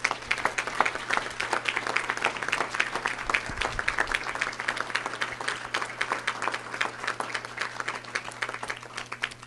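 Banquet dinner audience applauding an award presentation, a dense, sustained round of clapping from a large room, fairly close and steady throughout with a low hum underneath.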